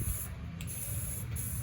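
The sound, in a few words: spray painting tire sidewalls white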